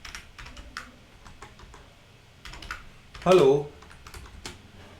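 Typing Python code on a computer keyboard, with scattered close key clicks in an irregular rhythm and a short spoken word partway through.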